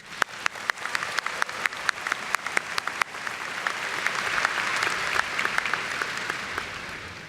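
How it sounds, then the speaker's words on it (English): An audience at a college graduation gives another round of applause for faculty award recipients. It begins as a few sharp, separate claps, then swells into a fuller, even patter of many hands at moderate distance. "Let's give Mr. Johnson and all of our faculty who received awards another round of applause."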